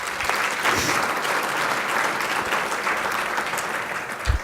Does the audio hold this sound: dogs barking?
no